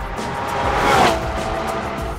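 A 2015 Porsche Cayman GTS launching hard after a clutch sidestep at 4,000 RPM, a loud, broad engine and tire roar that swells to a peak and then eases, with a brief faint squeal.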